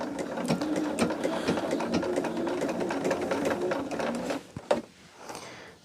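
A sewing machine runs steadily, stitching pinned quilt pieces with a fast, even mechanical chatter close by, then slows and stops with a few final clunks.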